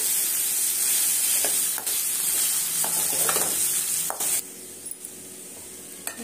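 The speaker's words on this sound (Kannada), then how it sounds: "ಚೆನ್ನಾಗಿ ಮೀಡಿಯಂ ಫ್ಲೇಮ್ ಮೇಲೆ ಹುರ್ಕೋಬೇಕು" Raw plantain slices fry steadily on a medium flame, a continuous close sizzle with scraping stirs of a spatula in the pan and a few brief clinks, no voices.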